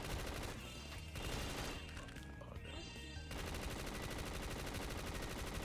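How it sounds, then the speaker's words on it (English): Rapid automatic gunfire in the Black Ops 3 Zombies video game, a continuous loud, dense rattle of shots with a brief thinner stretch before the firing picks up again. "We gotta shoot him, boss."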